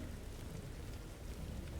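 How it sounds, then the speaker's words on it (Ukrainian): Diamond rain falling in the Roblox game 99 Nights in the Forest, heard as a faint, steady rain-like hiss and patter with a low rumble underneath and no talking. "А, це дощ діамантів!"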